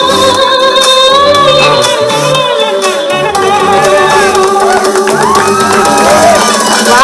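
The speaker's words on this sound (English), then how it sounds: "that's a round of applause" Crowd at an award ceremony cheering and applauding continuously, with loud whoops and shouts over a dense, steady roar of clapping and voices throughout.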